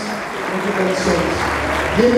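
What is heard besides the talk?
congregation applauding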